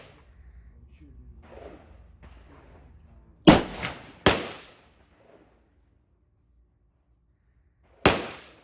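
Rifle shots crack at an outdoor gun range: two sharp reports about a second apart, then a third after a pause, each loud and close with a short decaying echo, under faint background noise.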